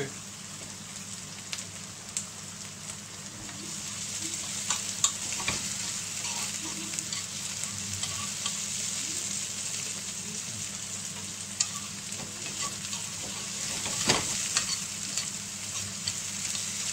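Garlic stir-frying over high heat for sweet and sour crispy chicken hisses in a steady, dense sizzle with occasional sharp clanks and scrapes of stirring, close and continuous, with almost no talk.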